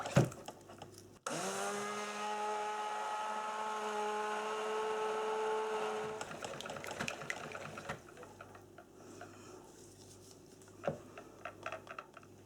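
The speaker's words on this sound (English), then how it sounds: "now we're using the stick blender and a combination of stirring and pulsing" A stick blender buzzes loudly and steadily for several seconds while mixing cold process soap, then switches to short pulses with scraping and clatter.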